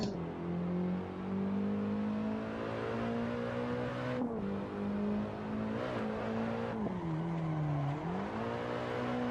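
A Nissan S15 driven in the Assetto Corsa racing game, its engine holding a steady droning tone with slight pitch rises and dips as the throttle shifts, continuous and close throughout with no talk.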